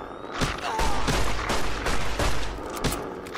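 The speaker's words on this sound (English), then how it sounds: "I'm hoping she does not hear the loud gunshots" Gunfire in Fallout New Vegas, aimed at dogs outside, comes as a dense, loud volley of rapid repeated shots with sharp cracks over a steady game background.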